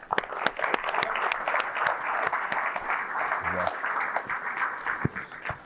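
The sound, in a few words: audience clapping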